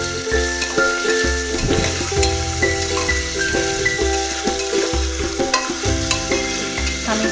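Mutton tossed with garam masala in a hot frying pan, a loud continuous sizzle broken by repeated rhythmic scrapes of a spatula stirring the meat, close and with no voices.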